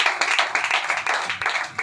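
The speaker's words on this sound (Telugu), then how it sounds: "గట్టిగా చప్పట్లు కొడుతూ ప్రభు" Loud, steady rhythmic clapping from a church congregation during a Sunday worship service fills the space, with several sharp claps each beat keeping an even tempo throughout.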